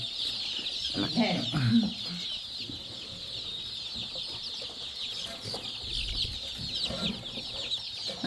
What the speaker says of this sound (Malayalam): കോഴികളാണ് മെയിൻ കോഴിയാണ് കോഴി വളർത്തുന്നത് കേട്ടോ